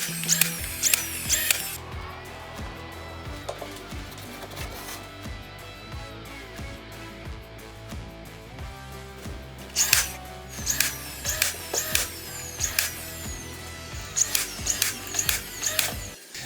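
Plywood workbench sidewalls being nailed down, with a rapid run of sharp, close nail-gun shots and clacks in irregular bursts over a low steady hum, no talking.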